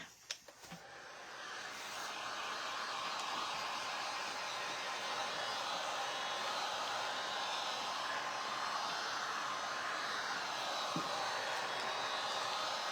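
A hair dryer blows on freshly painted slat wood for a rustic cabin sign, giving a steady, close whooshing drone that holds level for the whole stretch with no talking over it.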